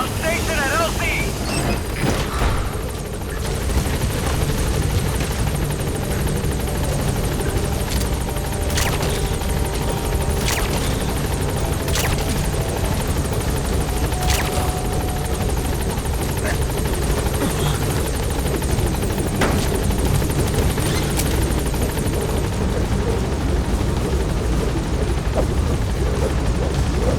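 Helicopter flying in Metal Gear Solid V, a loud, continuous rotor roar with rhythmic chopping thumps sustained close by for the whole stretch, with faint game sounds over it.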